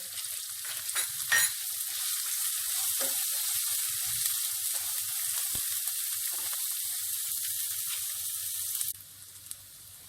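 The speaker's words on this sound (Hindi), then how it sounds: "अब मैं इसमें प्याज डाल रही हूँ। इसे हम 2 मिनट तक भून लेंगे।" Onions frying with toasted spices in a pan for achari bhindi, a steady hissing sizzle broken by a few stirring scrapes, cutting off sharply near the end.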